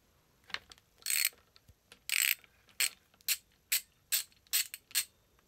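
A ratchet fitted with a 10 millimeter socket clicks in about ten short, close bursts, each a quick run of pawl clicks separated by brief pauses.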